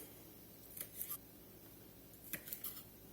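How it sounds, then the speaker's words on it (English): Fresh chives being snipped, a few quiet, crisp cutting snips in two short bursts, close by against a faint background hum. "Get some chives cut up here."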